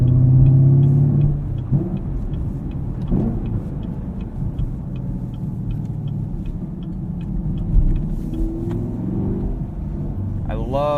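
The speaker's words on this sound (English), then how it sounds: "you can hear the engine and the induction and the scream from the exhaust out the back" A 2018 Chevrolet Camaro 2SS with manual transmission, driven at night, rumbles loudly throughout with bursts of revving, induction and exhaust noise, a voice talking over it near the start and end.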